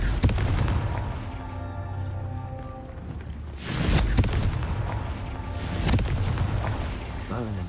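Confringo spell blasts in the Hogwarts Legacy game, two booming explosive bursts with a crackling tail over steady game ambience and a rumbling low background.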